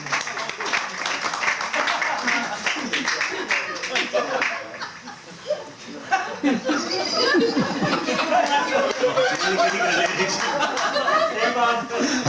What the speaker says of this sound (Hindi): इन्होंने वास्ते बहुत सारिया तालियां